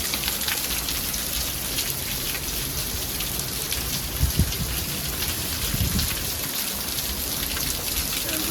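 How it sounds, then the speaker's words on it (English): Heavy monsoon rain pours down in Vail, Arizona, a dense, constant hiss of drops on surfaces with a couple of faint low rumbles midway, no voices. "Depends on how hard it rains."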